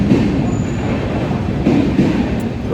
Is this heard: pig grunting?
no